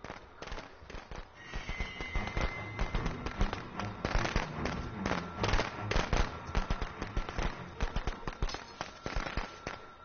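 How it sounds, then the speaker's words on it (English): Firecrackers crackle in Friday the 13th: The Game, a rapid, irregular burst of sharp pops that continues through the whole stretch at moderate loudness. "Curse those bloody firecrackers."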